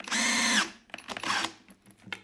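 A Skil 12-volt flip drill/driver with a Torx bit runs in drill mode, whirring loudly for about half a second, then spinning again in a second shorter burst, with faint mechanical clicks between and after.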